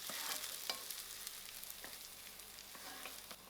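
Crushed garlic, curry leaves and chillies sizzling in hot oil over browned onions, a steady faint crackle with occasional sharper pops, heard alone without talk.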